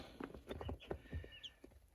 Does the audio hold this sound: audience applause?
no